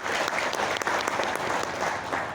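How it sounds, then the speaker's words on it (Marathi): An audience gives a speaker a loud, sustained round of applause, many hands clapping densely and evenly throughout at close range. "यस, बघा सरांसाठी जोरदार टाळ्या."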